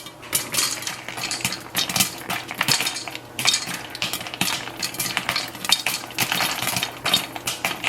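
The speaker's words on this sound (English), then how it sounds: "Okay, butter's done, and the popcorn started popping." Popcorn cooks in a pot with melted butter and salt, bottom slightly burning, crackling in dense bursts of sharp pops and rattles against the metal, close and busy.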